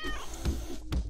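A rotten apple cat from the video game Turnip Boy Commits Tax Evasion lets out two short, clear meows in quick succession, with faint game effects underneath and no talking.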